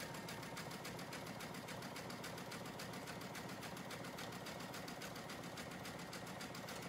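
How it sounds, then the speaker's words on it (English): A sewing machine stitches a side seam on boys' clothing, a fast even mechanical rattle running steadily and alone for several seconds. "this will, again, just help everything to lay nicer when we do sew that side seam back up"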